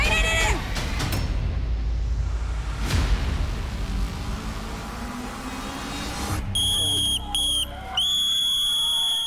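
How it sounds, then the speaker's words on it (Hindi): A referee blows a final whistle at a televised team challenge event, several sharp piercing blasts near the end following a noisy stretch of loud crowd and talk. "लेकिन यहाँ रेफरी ने मार दिया वो आखिरी सीटी।"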